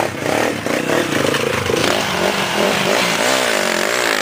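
A trail motorcycle engine runs loud and close throughout at a trail riders' meet-up in Castelo, its steady rough drone rising and falling slightly as the throttle shifts, with no talk over it.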